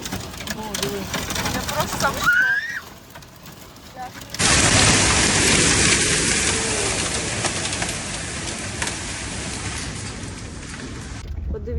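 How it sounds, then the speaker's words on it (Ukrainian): A sudden summer hailstorm at a beach hammers a car. A dense, loud roar of pelting ice fills most of the scene after a brief lull, while someone speaks with alarm at the start. "Боже, град, боже."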